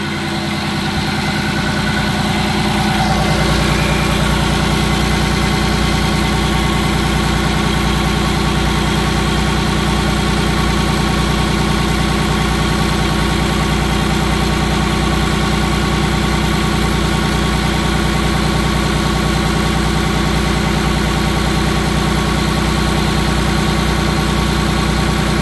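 A trawler's gasoline engine idling steadily at around 1150 RPM, a loud, constant low rumble with vibration, close and continuous with no talk.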